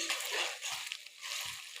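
Onion and chicken masala fry in a pan for a potato and local chicken curry, giving a soft, steady sizzle with a couple of faint low knocks and no talking.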